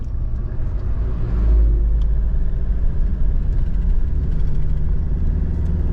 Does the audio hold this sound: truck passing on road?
yes